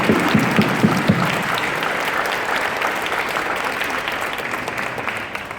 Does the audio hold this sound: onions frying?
no